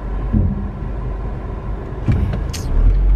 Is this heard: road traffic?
yes